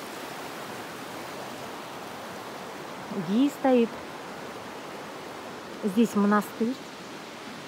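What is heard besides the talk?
Gumista mountain river flowing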